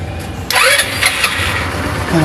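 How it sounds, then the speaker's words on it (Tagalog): A GY6 scooter engine being push-started after its starter motor carbon brushes were replaced: a sharp catch at about half a second, then a steady mid-pitched running engine close by, alone with no talk. "So ngayon nagpo-push start na siya"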